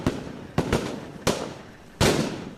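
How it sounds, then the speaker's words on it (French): Four sharp gunshots crack out one after another in a hostile zone during a military operation, each loud and close with a short decaying tail, spaced irregularly about half a second to a second apart, with no talk. "les coups de feu sont audibles"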